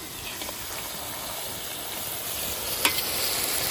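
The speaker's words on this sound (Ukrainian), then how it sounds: "Пожарили цибулю до золотого кольору." Steady frying sizzle of onions browning in a cauldron with occasional stirring scrapes, close up and fairly quiet, no voices.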